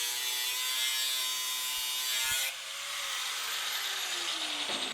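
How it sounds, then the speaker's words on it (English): An angle grinder cuts air duct holes into a welded steel cylinder in a workshop. A loud, steady high-pitched grind runs for about two and a half seconds, then drops to a lower whining spin-down with a faint ringing tone. "Break out the grinder again, Nick."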